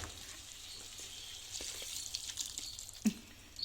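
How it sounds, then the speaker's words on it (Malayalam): Hot water poured into a pan of cooking pasta noodles with masala, a soft hiss and sizzle rising as the liquid hits the hot pan, with a small clink near the end, fairly quiet and close, without speech. "കുറച്ച് വെള്ളം കൂടെ ഒഴിച്ചു കൊടുത്തിട്ടുണ്ട്. അതും ചൂടുവെള്ളമാണ് ഞാൻ ഒഴിച്ചു കൊടുത്തത്."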